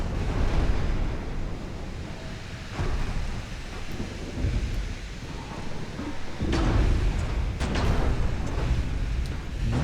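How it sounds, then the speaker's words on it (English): A torpedo strike explodes against a warship in a naval combat video game, a deep, rumbling blast with broad low roar that swells again near the end, amid continuous battle noise. "I was not expecting 9-kilometer torps."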